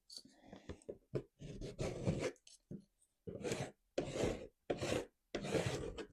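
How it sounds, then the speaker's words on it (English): Paint being scraped across an abstract winter landscape canvas with gold and silver paint, in a run of short rasping strokes separated by brief pauses, close and moderately loud, with no talking. "Scrape that."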